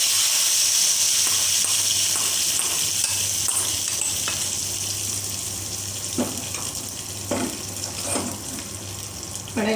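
Green chillies sizzle steadily in a hot pan, a continuous loud hiss and crackle with faint scraping and stirring clicks over it, and no talk.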